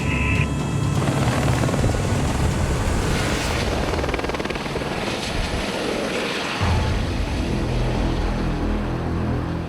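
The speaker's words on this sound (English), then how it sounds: "it's a long-range helicopter" A long-range helicopter flies north toward Seattle, its rotor and engine roaring loud and unbroken from close by, a dense steady drone with slight swells and no voices.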